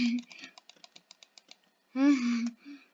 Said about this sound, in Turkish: Tak tak tak mouse sesi geldi arkadaşlar